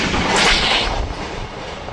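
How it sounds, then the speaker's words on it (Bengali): East Coast Express 18045 from Shalimar roars through a village station: a loud, continuous broadband rush of the passing train that peaks early and then eases slightly, with no voices. "এই হচ্ছে ইস্ট কোস্ট এক্সপ্রেস চলে গেল।"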